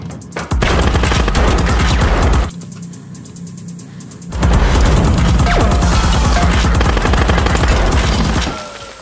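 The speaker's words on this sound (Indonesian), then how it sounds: "Seketika langsung ditembak saja sampai peluru mereka habis." Rapid bursts of automatic gunfire from a film rattle loudly, pause for about two seconds, then resume in a long sustained volley before stopping.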